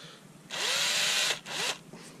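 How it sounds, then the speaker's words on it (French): A power drill bores small pilot holes a few millimetres deep into a wooden fishing-rod handle, with two close, loud whirring bursts separated by a short pause and no talking. "Commencer par faire 2 empreintes à la perceuse de quelques millimètres,"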